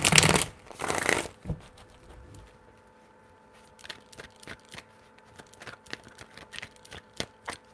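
A deck of cards is shuffled twice in quick riffling bursts up close, followed by a scatter of soft taps and clicks as the cards are handled.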